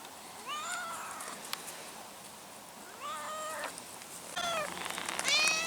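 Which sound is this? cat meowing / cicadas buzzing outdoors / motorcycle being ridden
cat meowing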